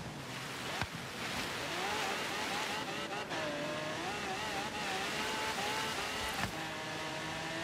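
A car drifting through snow and ice in the racing game Forza Horizon 3's Blizzard Mountain, its engine droning and wavering in pitch as it slides, with thuds from impacts and a steady roar throughout.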